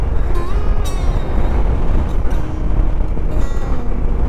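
Polish-made motorcycle exhaust roaring steadily and loud throughout a ride across the Canadian prairie, with wind rumble mixed in and no talk.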